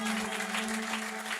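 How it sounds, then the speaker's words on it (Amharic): A church congregation at an Ethiopian healing service applauds for God's glory, a dense steady wash of clapping across the short moment, with a sustained low tone running underneath throughout. "እስኪ አጨብጭቡ። ለእግዚአብሔር ክብር ይሆንለት።"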